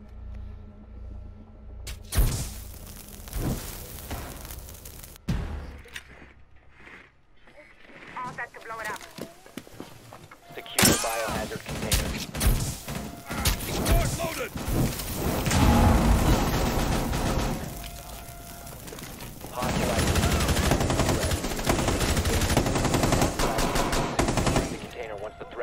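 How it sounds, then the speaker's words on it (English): Rapid gunfire in a tactical shooter game in the style of Rainbow Six Siege, a dense stretch of repeated shots and bursts with clattering footsteps, while players talk throughout. "who the fuck's shooting at me, bro?"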